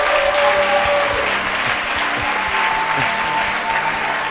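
A church congregation claps together in steady, sustained applause, a dense even wash of handclaps filling the space with faint voices underneath.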